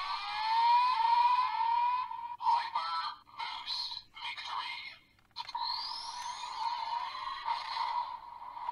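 A Kamen Rider Geats DX Boost Buckle toy plays its hyper sound effect, a loud electronic blare of rising alarm-like tones and bursts that continues steadily for several seconds, with no talking over it.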